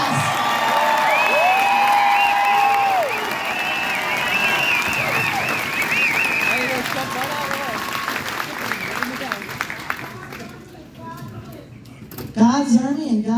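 A rally crowd at the People's Convoy gathering in Monrovia, Indiana applauds loudly with cheers and whoops, the clapping fading after several seconds into scattered shouts and nearby voices.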